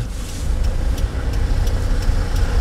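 A car pulls away slowly on a snowy road during a driving lesson, its engine a low steady hum close by, with faint ticking from the turn signal and no talk.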